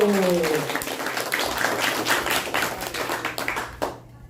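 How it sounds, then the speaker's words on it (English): An audience gives a round of applause to devotional performers at a spiritual gathering, a dense burst of clapping that carries on steadily, then thins and fades near the end. "let's give a round of applause to all of you"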